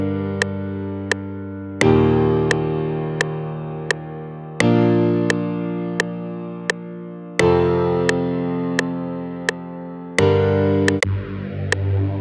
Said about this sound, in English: Now at a piano. Should sound something like this.